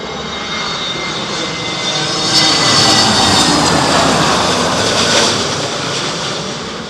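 An airliner's jet engines roar during a go-around at windy Heathrow Airport in storm conditions, a broad, loud, continuous rumble that swells in the middle and stays steady, with wind adding to the wash of noise.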